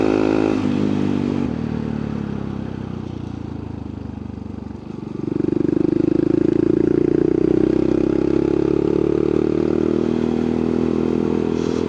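A motorcycle fitted with a Yoshimura exhaust, its baffle and spark-arrestor insert in place, rumbles on a country backroad, dropping to a lower idle-like note midway before opening up into a steady, louder drone.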